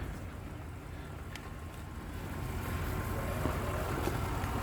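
A 2015 Audi A8 L engine idles with a steady low hum, running smoothly throughout with faint background noise.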